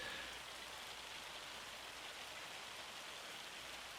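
Steady hail falling in Farming Simulator 25, a dense, even hiss like heavy rain pelting a surface, constant and close throughout with no talk.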